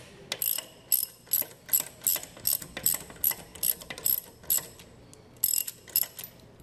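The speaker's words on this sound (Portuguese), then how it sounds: "Então vamos lá, retirar aqui os parafusos." A ratchet wrench loosens the bolts holding the volute of a centrifugal pump to its seal housing, clicking in about a dozen quick bursts of sharp pawl ratcheting, close and loud with short pauses between strokes.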